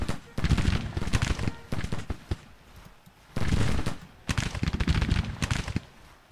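A brigade of Civil War infantry fires rifle volleys in Grand Tactician: The Civil War, heard as two long, dense bursts of overlapping crackling shots that are loud and close and separated by a brief lull.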